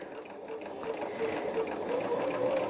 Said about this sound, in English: what I'm going to do is just sew right off that edge